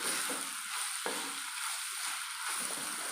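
Taro stems and leaves sauté in hot oil for a pickle, giving a steady close sizzle with soft stirring scrapes and one brief sharp tap partway through, no voices.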